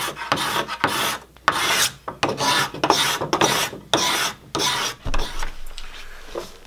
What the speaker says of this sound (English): Guess I'll try a card scraper first.